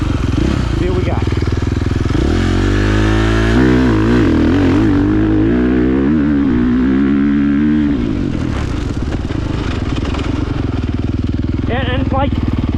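A 2023 KTM MX motocross bike roars close to the microphone throughout, its engine rising and falling as it revs through quickshifted gear changes, with a steady loud mechanical drone underneath.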